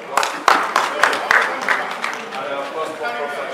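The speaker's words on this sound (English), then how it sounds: "Give him a good round of applause" Applause from the audience at General Sam Momah's book launch in Nigeria: several sharp claps ring out near the start, then thin into a softer, scattered patter.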